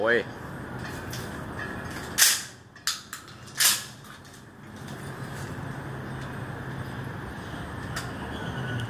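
A Mossberg Mariner 500 shotgun fires outdoors, with two loud sharp blasts a little over a second apart followed by smaller clacks of the action, while people talk and exclaim around it.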